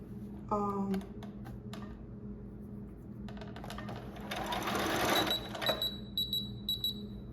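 A sewing machine stitches old denim jeans into a wrap skirt, running in a few bursts with whirring and mechanical clatter over a steady low hum, loudest near the end, with no talk.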